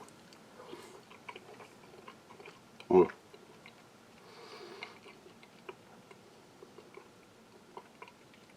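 Someone chews a British World War Supplies Menu D chilli con carne ration with rice and bits of pepper. The mouth sounds are soft and close, with one sharper bite or crunch partway through.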